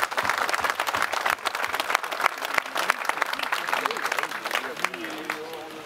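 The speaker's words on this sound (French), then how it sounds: "Bravo. Vous pouvez vous applaudir." More than 250 farmers gathered at a protest meeting clap for themselves, a lively crowd applause with sharp individual claps, tapering as a voice begins speaking near the end.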